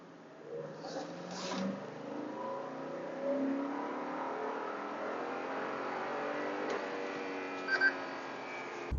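A Toyota Land Cruiser LX570 SUV engine, completely stock, revs at wide open throttle on a dyno up to the rev limiter, its pitch climbing steadily for several seconds, heard from inside the vehicle.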